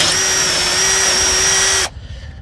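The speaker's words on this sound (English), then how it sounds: "I got a 5 mil drill bit which I already put in there, and so I'm just gonna make this a bit bigger" A power drill fitted with a 5 mm bit runs at steady high speed, enlarging an existing hole while fitting trailer signage; one loud continuous whine that cuts off sharply near the end, leaving quiet room noise.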